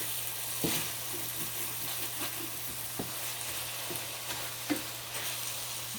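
Tenderized sirloin or flank steak and broccoli sizzle in a hot stir-fry pan, a steady crackling hiss with occasional louder pops and spatters, close up and without talk, over a low constant hum.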